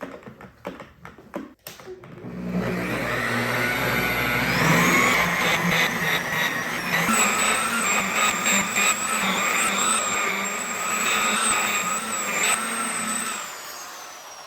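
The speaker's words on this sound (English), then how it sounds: "For the last step, we're going to use this Meguiar's Ultimate Polish on a polishing pad." A machine polisher whirs steadily on a car body, running Meguiar's Ultimate Polish on a polishing pad, a sustained buzzing drone with a high whine and faint rhythmic pulsing, close and alone.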